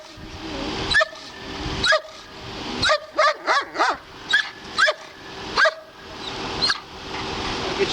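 A dog barks repeatedly in sharp bursts inside a van, some in a quick run of four or five, echoing slightly in the enclosed space, with a faint whine between.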